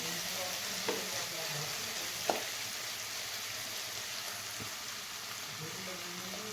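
Vegetables sauté in a pan of oil for veg pulao, giving a steady close sizzle throughout, broken by a few sharp clicks of a spatula against the pan.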